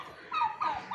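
Turkey gobbling on a farm, a single brief warbling call in two rising bursts, fairly close and clear over a quiet background.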